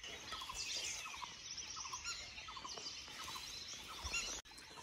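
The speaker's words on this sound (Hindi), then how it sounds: "यहाँ पे लगातार एक चिड़िया बोल रही है मचान के पास ट्री पे।" A bird calls repeatedly from a tree in dense forest in Jim Corbett National Park, short chirping bursts against a steady outdoor background, fairly distant and moderately faint.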